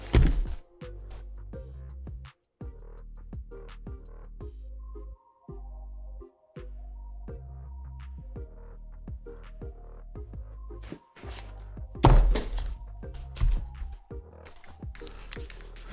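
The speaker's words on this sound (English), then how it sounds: "I should probably mute the mic when I start banging stuff around on the desk" Objects are banged around on a desk near a live microphone. Irregular close thunks and knocks are spread across the stretch, with a louder burst of impacts near the end and short silent gaps between.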